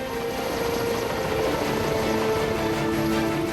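A large firefighting helicopter flies a forest fire suppression training run, its steady rotor drone and turbine whine continuous and moderately loud, with no voices.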